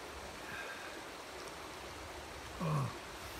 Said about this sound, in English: Alongside mighty Cedar Creek here.